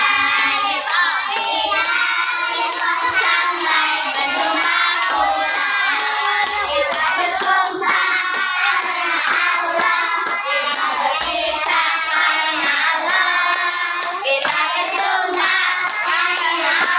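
Young children sing a finger-clapping song in unison, their hands tapping along in rhythm beneath the loud chorus of voices throughout.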